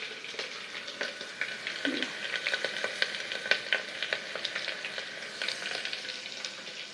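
Khichdi cooks in a pot on a gas stove, giving a steady, close sizzle speckled with small pops and crackles that carry on evenly throughout with no voices.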